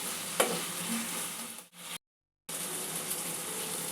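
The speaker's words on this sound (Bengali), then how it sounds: "সব কিছু একটু ভালোভাবে মিশিয়ে নিয়ে 2-1 মিনিট একটু মশলাটা কষিয়ে নেব।" Spices and masala sizzle and fry in a pan for a Bengali ridge gourd curry with red lentils, a steady close hiss with stirring scrapes, briefly cut to silence partway through.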